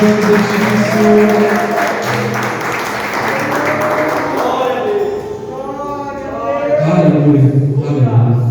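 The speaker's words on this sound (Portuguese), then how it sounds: "Você pode aplaudir o nome dele." A church congregation applauding, a steady wash of clapping that carries on under loud sung and spoken worship voices throughout.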